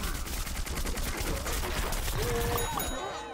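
Rapid gunfire rattles from the shooter game Plants vs Zombies Garden Warfare 2, dense continuous bursts of shots filling the moment with a few synthetic game tones near the end.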